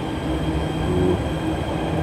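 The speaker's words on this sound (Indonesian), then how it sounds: "Itu kereta yang tadi sudah menuju ke Lebak Bulus." A Jakarta MRT train at Blok M station, a loud, steady rumble of wheels and motors with faint squealing tones, filling the platform without any talking.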